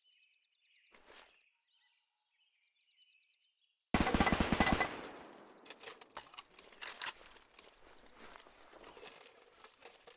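Gunfire in the World War II strategy game Men of War II: a sudden loud burst of shots, then scattered sharp cracks and thuds over faint birdsong, with distant chirps heard earlier in otherwise quiet surroundings.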